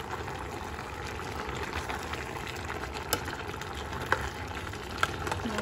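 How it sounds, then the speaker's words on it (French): Mango compote left to boil in a pot, a soft steady bubbling and simmer with a few small pops, quiet and close with no talk. "On laisse bouillir encore."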